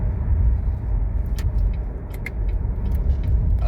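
A Corvette C7 Z51 engine rumbles deep and steady from inside the car as it downshifts, a continuous low-pitched drone with slight rises and falls in revs and a few faint clicks over it.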